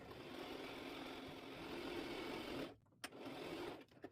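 A sewing machine runs in a fast, steady whir while stitching a glove finger, stopping abruptly near the end with a couple of short clicks and brief restarts, close and alone.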